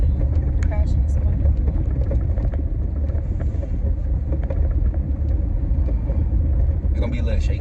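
A car drives through deep snow during a blizzard, giving a steady, loud interior engine rumble and road noise that runs unbroken from start to finish, with faint muffled voices underneath.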